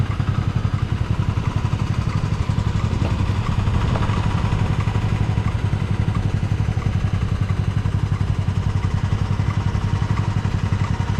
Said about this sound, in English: there's a lot of scooter noise. I think the Cub sounds incredible